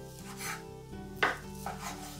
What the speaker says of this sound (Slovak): Plátky slaninky poukladáme na seba a krájame na malé kúsky.